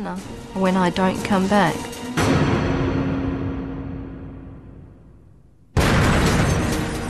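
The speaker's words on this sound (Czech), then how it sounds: "Výbuchy rozervaly přeplněné bary a kluby na Legion Street v kdysi pokojné oblasti Bali na pláži Kuta." A bomb blast in a crowded bar district at Kuta Beach, Bali, opens with a loud burst and a long, slowly decaying rumbling boom, followed by another sudden loud blast; a voice talks briefly before the first blast.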